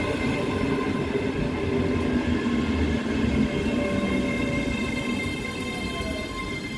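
A ScotRail passenger train rumbles past close by at Lenzie station, a steady loud roar of wheels and carriages with faint rail squeal throughout.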